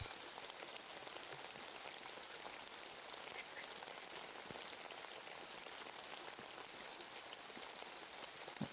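A quiet, unbroken rain ambience patters softly with small scattered drips, a looping sound effect playing during a game development stream, with no speech over it.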